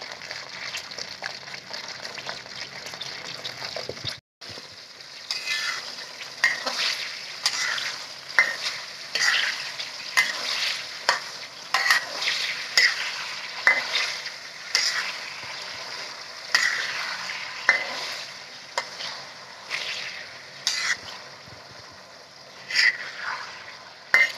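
Sago palm weevil larvae fry in hot oil with a continuous close sizzle, broken by repeated scraping stirs and splashes in an even rhythm, and no one speaking.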